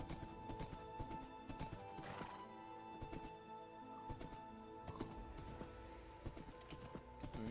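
Steady clip-clop of horse hooves trotting in a regular rhythm, with an occasional whinny, fairly faint, from the video game Minecraft.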